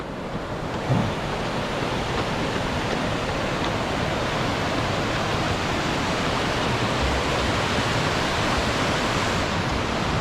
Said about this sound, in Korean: 물소리 장난 아니다